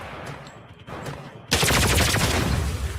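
In a Star Wars video game, a heavy gun opens up after a quieter stretch of game sounds. It bursts into loud, rapid, sustained automatic fire that carries on to the end.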